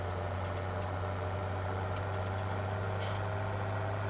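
A new leased tractor in Farming Simulator 2017 idles steadily, a low constant engine hum with a strong drone throughout and no speech over it.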